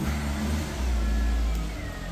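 A Mk1 Audi TT's engine rumbles steadily at low pitch as the car moves in slowly, fairly close, with no talking.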